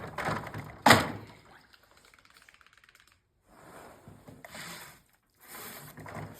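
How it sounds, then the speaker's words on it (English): A wax roller coats beehive foundation for nucs, rolled back and forth in a few rubbing passes with a sharp knock and small ticking sounds between strokes, close and moderately loud. "there's always less wax on my roller, so I coat it back and forth a couple of times"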